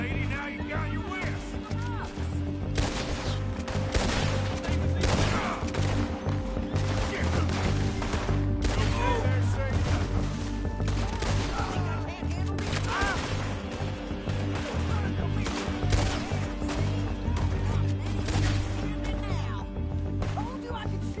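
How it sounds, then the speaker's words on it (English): Gunfire in the Red Dead Redemption 2 western game crackles in repeated bursts and single shots amid crashes, with voices talking throughout. "Told you I could shoot a gun"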